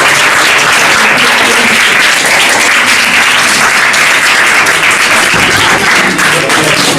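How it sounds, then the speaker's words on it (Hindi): Loud, thick applause fills a school motivational event as students clap hard and continuously for an invited teacher, a dense roar of hands with no breaks or voices rising above it. "जोरदार ताली होनी चाहिए"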